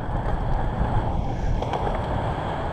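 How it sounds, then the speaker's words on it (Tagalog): Strong sea waves crashing at a seaside fishing spot, a constant heavy rumbling wash mixed with gusty wind buffeting the microphone, with no voices. "lakas ng alon talaga."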